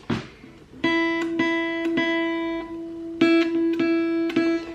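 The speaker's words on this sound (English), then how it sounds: "you can pluck it with one of those like this" Several bright plucked guitar notes ring out one after another, each struck sharply with a pick and sustaining clearly, close and fairly loud.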